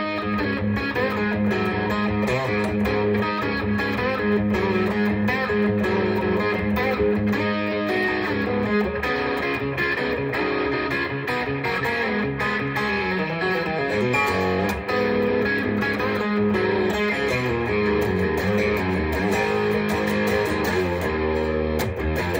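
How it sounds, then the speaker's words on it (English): A heavily distorted electric guitar plays chunky, sustained chords and riffs, loud and continuous throughout, with no voices. "I love this guitar."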